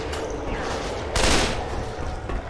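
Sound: assault rifle gunfire in Left 4 Dead 2 video game

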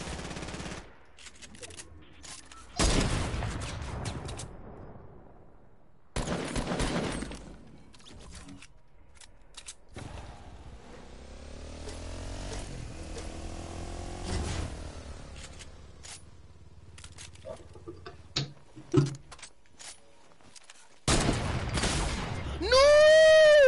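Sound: gunfire in a video game

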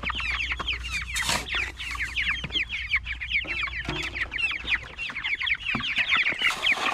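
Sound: meat chickens clucking

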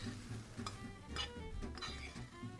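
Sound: tossing and stirring food in a pan

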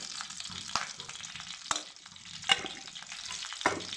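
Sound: semolina (rava) roasting in ghee in a pan

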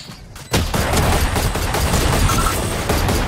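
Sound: gunfire in Valorant video game

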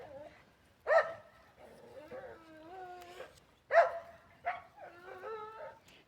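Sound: dog barking and whining

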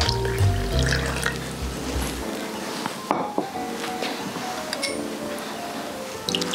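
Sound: water being poured into flour for dough

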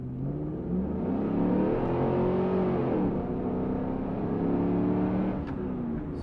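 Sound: 2002 Chevrolet Camaro SS accelerating

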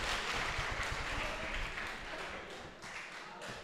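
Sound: audience applause at a mushaira

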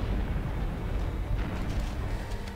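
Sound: explosions in Halo Combat Evolved video game

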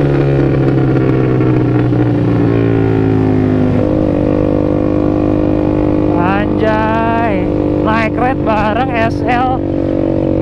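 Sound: motorcycle with loud aftermarket exhaust

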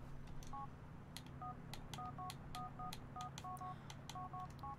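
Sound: phone dialing a contact in Grand Theft Auto IV video game

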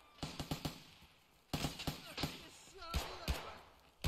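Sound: gunshots from a battle royale video game

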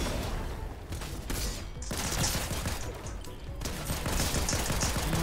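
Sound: gunfire from a weapon in the video game Fortnite

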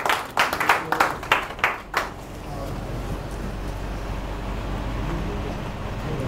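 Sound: audience clapping

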